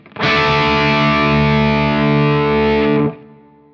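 An electric guitar through a Protein v4 pedal on its overdrive 2 setting rings out one loud, thick, distorted chord, held for about three seconds before it is cut short into a faint tail.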